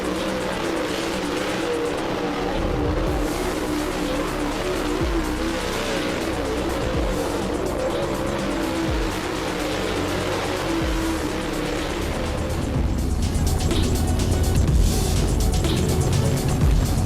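Super Late Model race cars run laps on an oval track on a cold night, engines roaring steadily as cars pass, with a louder, nearer surge of engine noise toward the end and no voices.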